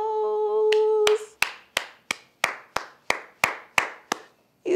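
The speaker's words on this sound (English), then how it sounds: "You did it. Clap for yourselves." Hands clapping in a children's song, a run of about ten evenly spaced, crisp, close claps following a brief sung musical note at the start.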